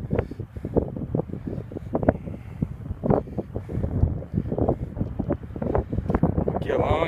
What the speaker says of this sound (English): Kind of windy out here on Hebron Acres, but that's okay.